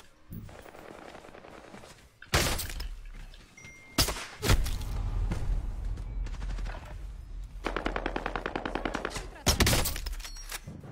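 Rapid bursts of loud automatic gunfire in a video game crack repeatedly, separated by brief pauses, with dense rattling volleys near the end.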